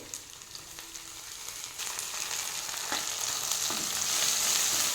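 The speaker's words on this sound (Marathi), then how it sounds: "ओली मिरची 2 मिनिट परतून घेऊ।" Green chilies, with garlic, fry in a pan, a steady sizzle that grows gradually louder, broken by a few scraping stirs.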